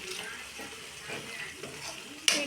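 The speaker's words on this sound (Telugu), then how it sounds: "వాటర్ వేస్తున్నాను." Water poured into a simmering egg curry, a soft continuous splashing and sizzle, close by, ending in a sharp clink of utensil on the pan.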